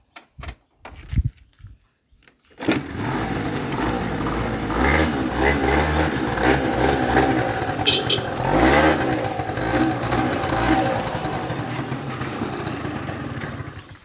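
A Honda Dio scooter engine starts after a few brief knocks and then runs steadily at close range, a buzzy idle with slight rises and dips in revs and no talk.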